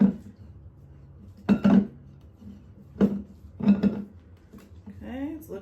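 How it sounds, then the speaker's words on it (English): A spatula scrapes down the sides of a mixing bowl of cupcake batter, several short separate scraping and clinking strokes against the bowl, close and fairly clear, with a voice speaking near the end. "just give it a good scrape down along the side to make sure everything is nice and mixed in"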